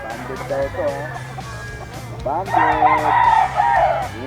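Banded yellow-legged gamefowl roosters cluck briefly, then one crows loudly and close for about two seconds, with other fowl faintly in the background.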